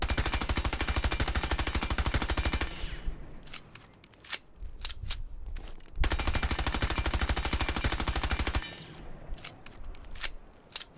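Automatic gunfire from Sledge's weapon in the Rainbow Six Siege video game, fitted with a suppressor: two long sustained bursts of rapid shots, each followed by scattered short single shots and pauses, loud and close with no talking.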